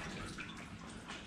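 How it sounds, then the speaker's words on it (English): Water runs down from guttering into the basement of the derelict Cannon Brewery, a soft, steady wash of splashing and trickling heard at a distance, with no voices. "It's like running water. That's not a leak."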